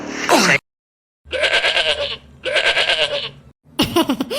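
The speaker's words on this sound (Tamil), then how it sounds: "என்ன தம்பி ஆடு சத்தம் கேக்கு" A goat in a cartoon gives several loud, close bleats in short bursts separated by brief silences, likely voiced for the animation.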